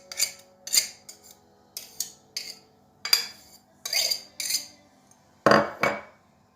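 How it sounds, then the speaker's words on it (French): Soft butter and frangipane filling for a galette des rois being mixed with a spoon in a bowl, a series of separate clinking, scraping strokes with pauses between, fairly quiet and close. "et maintenant on va tout mélanger à l'aide de la cuillère"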